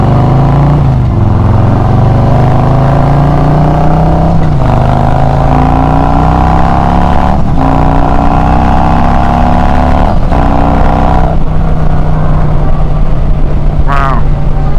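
Harley-Davidson motorcycle with a Trask power plate cruises along back roads, a loud steady engine drone with wind rush throughout and a few brief shifts in pitch.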